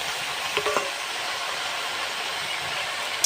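Ghetkol stalks and leaves with onion, garlic and green chili stirred in a pan, a steady broad frying sizzle with a few scraping clinks early on and one at the end, close and even, no talking.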